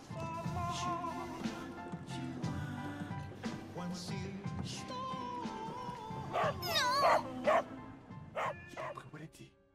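A dog barks in Final Fantasy VII Remake Intermission, with repeated bow-wow barks and yips over game music and sounds, louder near the end, while people talk over it.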